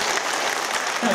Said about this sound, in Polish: ja myślę, że brawa mu się należy